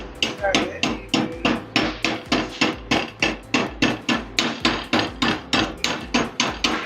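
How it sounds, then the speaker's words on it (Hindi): Chipping hammer knocking slag off a welded lap joint: about twenty sharp, loud metallic strikes in a steady, fast rhythm, close and alone. "चिपिंग हैमर से मारेंगे उसको ज़ोर से"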